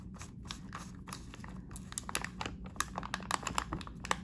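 A plastic bag of frying flour crinkles and crackles as a twist cap with inner stopper is fitted through its corner, giving irregular close crisp crackles that grow busier toward the end.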